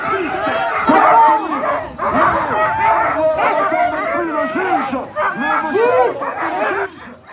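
Sled dogs at a race start at a polar base in Val Cenis bark, yip and whine in an excited, continuous chorus close by, with overlapping voices and a commentator talking over them.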